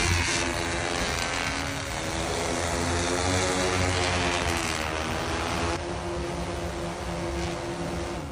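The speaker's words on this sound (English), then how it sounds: "Ukrainian heavy drone of the Baba Yaga type." Ukrainian Baba Yaga heavy drone, a multirotor carrying TM-62 anti-tank mines, flying with a steady droning propeller hum, loud and continuous throughout, no talking.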